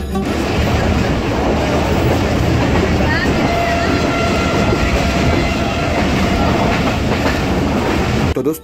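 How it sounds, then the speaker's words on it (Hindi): Hazara Express train pulling out of Pano Aqil railway station, a steady, loud rumble of rolling wheels and carriage noise throughout, with faint voices mixed in. "ट्रेन पन्नौकल रेलवे स्टेशन से निकल चुकी है और अब कराची का सफर शुरू हो चुका है"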